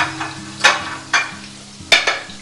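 Chicken pieces and shrimp fry in hot oil with a continuous sizzle, broken by three or four louder surging bursts as food is stirred, close and prominent over a low steady hum.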